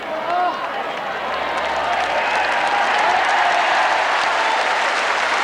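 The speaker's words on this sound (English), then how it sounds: "Willie Wood deserved the cheers and the applause" Outdoor crowd at a 1984 lawn bowls singles final breaks into sustained applause and cheers, a broad wash of clapping that holds steady and grows slightly louder toward the end.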